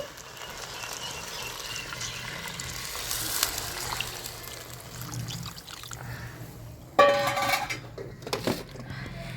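Water is poured into a cooking pot while making pulagam, a soft running splash that gives way to sharp clinks of the vessel near the end, close by in a home kitchen.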